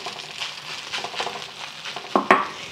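Eggs fry in a pan of bacon fried rice as they are broken up, a hissing sizzle with busy scraping and stirring, ending in a couple of sharper utensil knocks.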